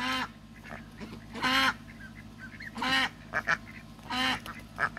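Several loud duck quacks in short bursts, spaced a second or so apart, over a continuous low background hum.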